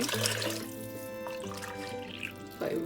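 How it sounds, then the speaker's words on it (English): Water poured into rice in a cooker while making fried rice, a steady, close pouring and filling sound running alone for about three seconds, with a brief surge near the end. "So now I'm just going to add some water accordingly to the rice."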